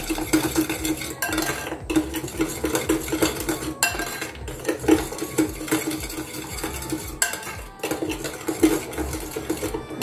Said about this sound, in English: mix that all together until all the sugar has dissolved